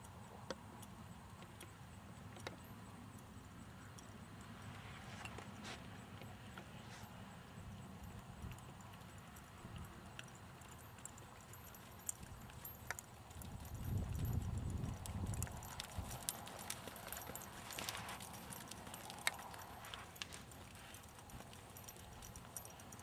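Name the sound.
horse hooves walking while being ridden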